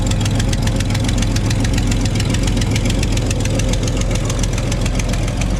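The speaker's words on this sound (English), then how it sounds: "Sounds like the engine banging away, but all it is exhaust gas escaping there." A classic car engine idles steadily and loudly, with a rapid, regular puffing and ticking from an exhaust leak, continuous throughout with no voices.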